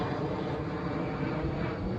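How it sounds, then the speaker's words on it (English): Aircraft pass overhead near Birmingham, giving a steady, broad engine roar that holds evenly throughout with no voices. "it's just planes after planes after planes here"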